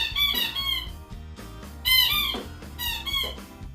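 A puppy gives a series of high, squeaky whines in short bursts, close and fairly loud, with no talk over them.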